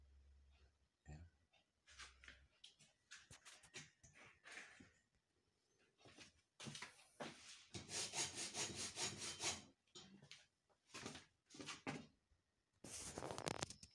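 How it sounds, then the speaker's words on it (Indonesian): Hand saw cutting through the plastic side casing of a dry car battery, rasping in rhythmic strokes that come in bursts with short pauses, close and clear. "saya akan menggergaji bagian samping"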